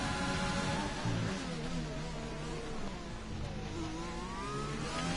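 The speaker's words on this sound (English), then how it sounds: "the Renault engine there just purr as he accelerated out of the Nouvelle chicane" A Renault Formula 1 car engine in the F1 2020 video game accelerates out of the Nouvelle chicane at Monaco, a steady high-pitched whine rising through the gears under continuous race noise.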